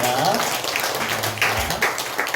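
A church congregation claps at a Korean thanksgiving Sunday service, producing a dense, sustained patter of many hands mixed with voices.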